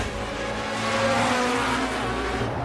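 A 1970s Formula One race car engine screams at high revs as it accelerates during a race in the film Rush, a dense, steady roar with some tire noise and no voices.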